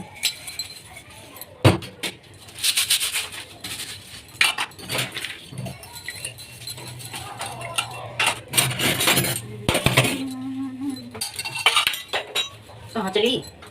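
Dishes, pots, spoons and other cutlery clatter and clink during a daily evening washing-up, with irregular sharp knocks and scrapes close by and a voice talking now and then.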